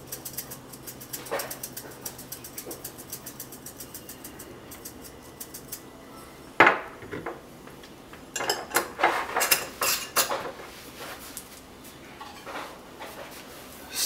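Potatoes with rosemary olive oil stirred in a pan, scattered utensil scrapes and clinks against the pan in irregular bursts over a low background hiss.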